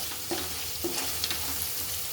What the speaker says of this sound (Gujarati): આપણા બટેકા અને મરચાં બંને સાતળી લીધા છે